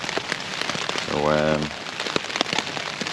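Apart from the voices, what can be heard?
rain falling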